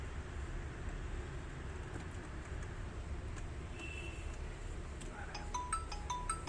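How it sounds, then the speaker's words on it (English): A mobile phone rings with a short melodic ringtone, set off by an incoming call placed by a GSM module; the tones start near the end over a steady background hum. "You can see we will get soon a call on this mobile number"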